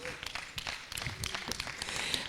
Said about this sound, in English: A round of applause, please, for both teams.